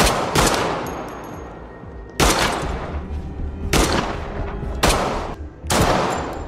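Loud bursts of gunfire crack out in a film shootout, several sharp volleys spaced a second or two apart, each with a rolling echo and a dense rumbling bed of action between them.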